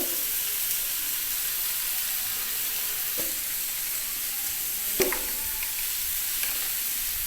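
Spices and semolina stir-fried in a pan give a steady faint sizzling hiss with occasional light scrapes and taps of a utensil, with no talking.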